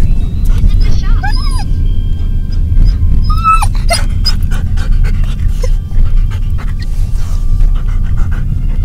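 A husky pants steadily and close up, letting out a few high whimpers and whines, with a person talking in the background.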